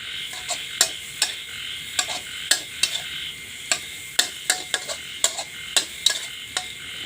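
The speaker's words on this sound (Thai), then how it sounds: "ผัดให้ไข่มันเข้ากับผักก่อน" Egg and vegetables stir-fried in a pan for late-night instant noodles, a run of sharp, irregular scraping and clicking strokes of a spatula against the pan over a soft, steady sizzle, close and fairly loud.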